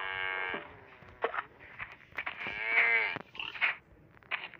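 An ox in the Mini Block Craft game lets out several drawn-out, harmonic lowing calls in close succession, loud and alone, with short gaps between them.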